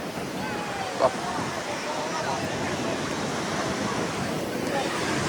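Sea waves at Ganpatipule beach wash in as a steady, broad roar of surf, mixed with wind rumble across the microphone and a brief knock about a second in.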